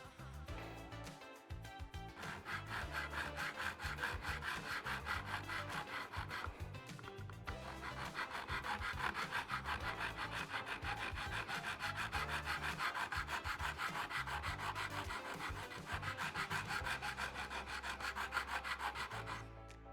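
Guitar frets on a StewMac kit build being levelled with 150 grit abrasive, continuous close back-and-forth rasping strokes in a steady rhythm for about twenty seconds with only brief pauses, no talking.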